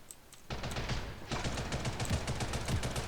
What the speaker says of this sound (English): I think I'm gonna lose this gunfight.